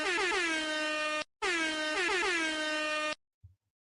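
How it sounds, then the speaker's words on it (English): Two loud, blaring air horn blasts, the first brief and the second longer, followed by a faint thud and silence. "Come on. Where's the air horn?"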